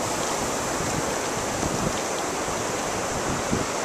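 On a windy beach, waves wash in over the sand in a steady roaring surf, with wind buffeting the microphone throughout and no voices.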